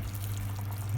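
Boiling water poured into a pot of chicken thigh stew on the stove makes a steady, close liquid rush over a constant low hum, with no talking.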